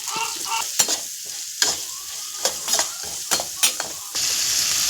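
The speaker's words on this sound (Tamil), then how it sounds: "நல்லா வதக்கிக்கலாம்" Onions sautéing with cooked horse gram in a pan, a loud close sizzle broken by repeated scraping stirs of a spatula at irregular intervals, with no voices.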